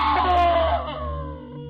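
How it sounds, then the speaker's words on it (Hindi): A terrifying, sustained high scream in a horror story, loud and close, wavering and slowly fading over under two seconds with no other sounds. "इतनी भयानक चीख कि मेरे कान सुन पड़ गए और कॉल कट गया"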